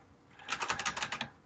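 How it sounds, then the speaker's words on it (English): Quick run of keystrokes on a computer keyboard while entering a task in Microsoft Planner, about ten close, crisp clicks in a fast even rhythm with no talking. "I'll spell it wrong because I'm typing in front of an audience"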